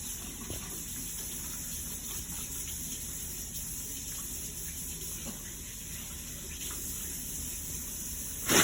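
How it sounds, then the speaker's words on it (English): Water running steadily from a tap while hands are washed after removing gloves, a continuous close hiss and splash with slight shifts as hands move under the stream. "Remove my gloves and wash my hands."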